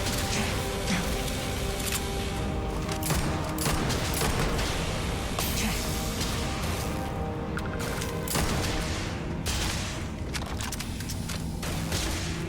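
A mining turret fires in the Starfield game amid a constant barrage of rapid gunfire, sharp cracks and crashing impacts, loud and unbroken for the whole stretch.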